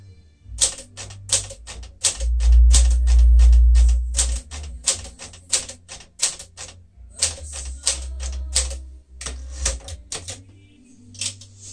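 Keys strike steadily on a 1959 Smith-Corona Sterling manual typewriter, a close, loud run of sharp clacks in uneven bursts with brief pauses, heavy thumps of the mechanism underneath, and no voices.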